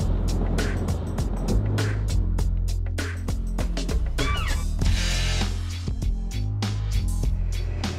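A race car lapping the Zwartkops circuit roars close by, with its engine pitch shifting through gear changes and braking. Rapid clicks and knocks run over the engine noise, and there is no talking.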